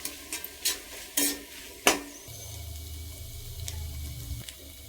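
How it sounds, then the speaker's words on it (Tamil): Ivy gourd stir-fry with ground coconut, cumin and dried chili tossed in a pan: a few sharp spatula clicks and scrapes, then a soft, steady low sizzle. "இப்போ இந்த அரைச்சி வச்சு தேங்காய், சீரகம், காஞ்ச மிளகாய் இதெல்லாம் வந்து சேர்த்துக்கலாம். இதை ஒரு 2 நிமிஷம் மிக்ஸ் பண்ணி விட்டுட்டு"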